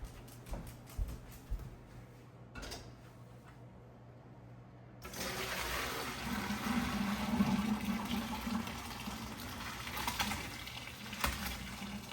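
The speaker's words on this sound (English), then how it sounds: "Rinse them in some cold water." Cold running water pours steadily from a tap after a few quiet clinks and knocks, a continuous splashing rush as drained lasagna noodles are rinsed under it.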